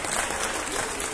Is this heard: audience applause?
yes